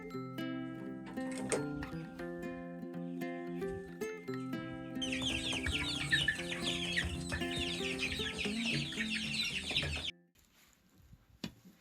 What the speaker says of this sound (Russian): Цыплята быстро подрастали